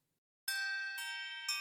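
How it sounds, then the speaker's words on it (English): A bell chimes the half hour with three clear, ringing strikes about half a second apart, each tone lingering into the next, alone after a moment of silence. "The 10:30 bell is chiming the half hour as Zachary, Liam, and Adrian are leaving the"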